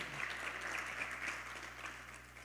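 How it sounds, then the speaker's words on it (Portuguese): Congregation in a church clapping, a faint, steady patter of applause from a crowd that fades slightly toward the end. "aplauda o Senhor, exalta o nome dEle"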